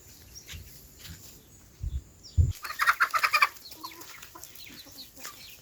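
Chickens clucking outdoors in the morning, a quick burst of close clucks after a couple of soft thumps, then fading into quiet background.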